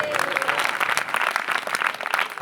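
A church congregation at a Sunday worship service breaks into loud, dense clapping that fills the hall steadily for a couple of seconds, close and continuous, without any speech.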